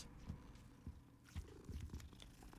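A cat purrs softly in Hogwarts Legacy, a faint, low rumbling purr with small irregular pulses and no voices over it.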